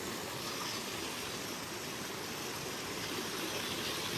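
A small waterfall in a tiny brook trout stream splashes in a constant close wash of water noise, steady and unbroken, with no voices.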